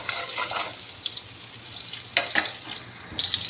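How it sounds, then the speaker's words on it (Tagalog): Garlic frying in a pan gives a close, soft sizzle with some stirring scrapes and a couple of sharper clatters partway through. "Golden brown muna natin yung bawang."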